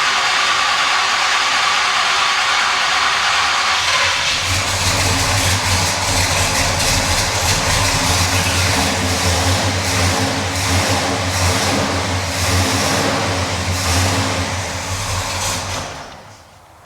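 An old Chevrolet Monte Carlo engine cranks and catches after about four seconds, then settles into a loud, close, rough running rumble with uneven revving pulses before cutting off, no talk over it.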